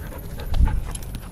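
A Belgian Malinois pants close by during heel training, quick rhythmic breaths over a low background rumble, with no voices in this short moment.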